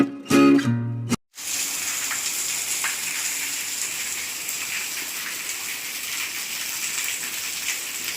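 Steady rain falls continuously, a dense even hiss of drops on surfaces that holds from start to finish after a few brief louder knocks at the opening, with no one talking.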